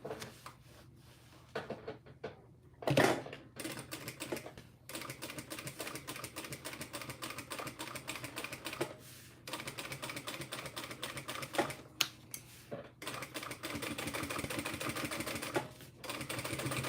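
A sewing machine stitches a cork tote bag in short bursts of close, fairly quiet rattling, separated by pauses and small handling clicks.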